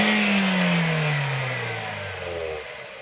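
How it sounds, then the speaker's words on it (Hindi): A 2009 Toyota Corolla GLI's engine runs loud and close for the whole stretch, its steady hum pitching down smoothly as the revs settle, with no voices over it. "दोस्तों ये आवाज़ कितनी खामोश है गाड़ी की।"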